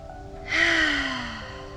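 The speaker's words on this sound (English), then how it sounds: "take a deep breath" A single deep breath drawn in and let out slowly during a calm affirmation session, close and clear against a quiet background with no talking.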